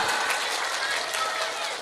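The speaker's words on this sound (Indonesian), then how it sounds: "Tepuk tangan dulu dong." A crowd at a women's religious study gathering breaks into dense, continuous clapping for a brief moment, loud and filling the space, with voices mixed in.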